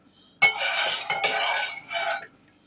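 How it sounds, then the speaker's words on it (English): A spoon stirs homemade dirty rice in a pot, giving a few close scraping, clinking bursts of metal against cookware, with short pauses between strokes and quiet in between. "I'm going to stir it real good"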